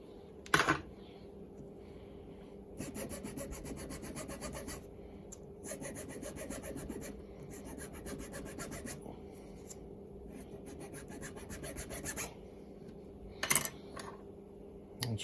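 A metal part for a 1973 Honda PC50 scooter is deburred with a file, giving repeated rasping strokes in bursts, close and fairly quiet, with a couple of sharp clinks of metal.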